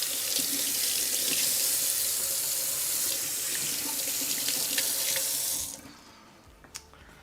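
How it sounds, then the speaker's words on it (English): Tap water runs steadily into a sink while hands are washed beneath it, a close, full splashing rush that stops abruptly near the end, leaving a couple of faint drips and clicks. "But first I better wash my hands quickly."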